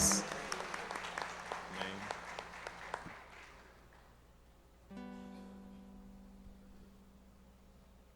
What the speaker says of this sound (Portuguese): Aplauda o Senhor, glória a Deus.